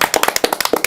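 A few people clapping in a quick, irregular burst of sharp hand claps, close and fairly loud, with no talking.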